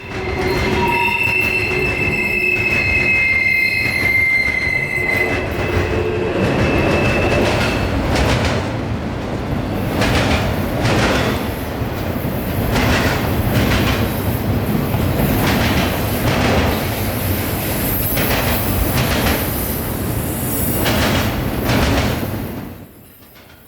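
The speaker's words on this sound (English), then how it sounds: "these specially built CSX phosphate flip tops that are usually used on trains in the Bone Valley" A long CSX freight train of phosphate flip-top hopper cars rolls steadily past close by in Florida, wheels squealing at first, then a continuous rhythmic clatter of cars over the rails.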